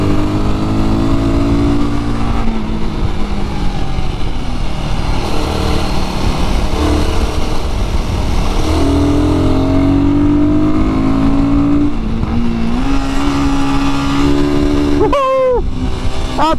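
Royal Enfield Guerrilla 450 motorcycle being ridden on a twisty road, its engine droning steadily and rising and falling in pitch under constant wind rush, with a sharp rev change near the end.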